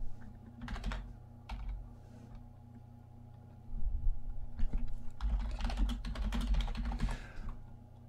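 Typing on a computer keyboard while editing a TYPO3 modal box: scattered single keystrokes at first, then a denser burst of rapid clicking, close and without talk.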